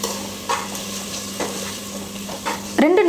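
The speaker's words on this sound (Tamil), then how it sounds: "இப்போ இது எல்லாத்தையும் சேர்த்து ஒரு 2 நிமிஷத்துக்கு நான் நல்லா வதக்கிக்கிறேன்." Curd and masala sautéed in a pan for kuska biryani, with a steady close sizzle under repeated scraping stirs of a utensil, plus a louder clatter at the end.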